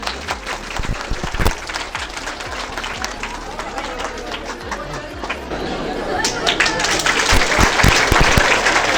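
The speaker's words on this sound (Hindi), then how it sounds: "तो सभी लोग जो है एक बार तालियां बजाइएगा।" An audience at an inter-college student event claps for an honoured guest, scattered applause that swells and grows louder while voices chatter over it.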